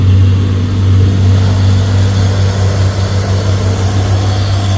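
A Toyota Dino single-axle truck engine drones loud and steady while climbing an uphill road at Bukit Kodok, a constant low rumble with no talk over it.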